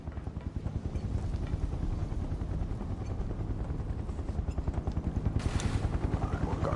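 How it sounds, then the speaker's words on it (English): A helicopter in the video game Final Fantasy VII Remake, its rotor thumping in a fast, steady pulse that stays loud and close throughout with a brief whooshing swell near the end. "we're near the chopper"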